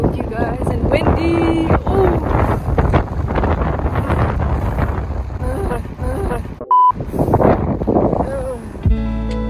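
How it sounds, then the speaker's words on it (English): Cold wind buffets the microphone outdoors on a snowy day in Glasgow, a loud, continuous rushing gust, with a voice faintly present under it and a brief cut near the end. "Cold, you guys, and windy."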